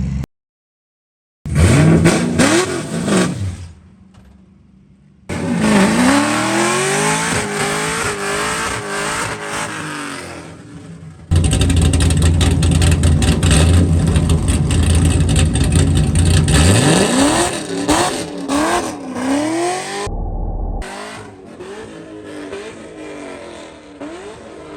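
Chevrolet Camaro engine revving hard and accelerating through the gears, with loud rising pulls broken by brief gaps at each shift, close and alone with no talk.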